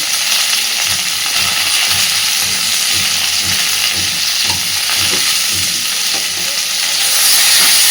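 Cauliflower and potato fry in a pan with a loud, constant sizzle, while a spatula stirs them in a steady rhythm of soft scrapes and knocks close by.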